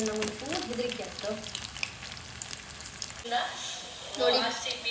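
Food frying in hot oil in a home kitchen, a steady crackling sizzle with bursts of spattering, close by, while a voice speaks over the first part.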